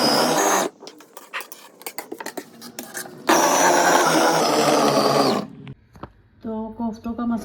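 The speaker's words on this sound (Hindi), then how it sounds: "अब इन सबको मैं दोबारा से पीसूँगी।" An electric grinder pulverises chickpea powder and spices for kofta masala in loud whirring bursts, the longest about two seconds, separated by clattering pauses, with someone talking briefly near the end.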